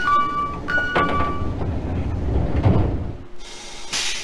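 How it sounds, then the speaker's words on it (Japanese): Sliding doors of a Hokuhoku Line rapid train closing in Densha de GO, a chime followed by a rumbling slide and a solid thud as they shut, then a bright electronic tone near the end. "ドアが閉まります。"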